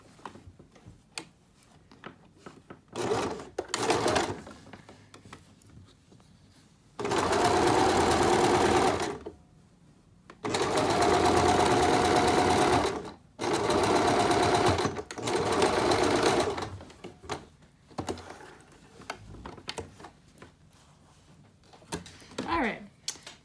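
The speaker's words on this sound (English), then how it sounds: "Gonna back stitch. I'm sewing this at 1/4 of an inch." A sewing machine back-stitching a fabric face mask at a quarter-inch seam, running in three loud close bursts separated by pauses, with scattered handling clicks and a person talking between runs.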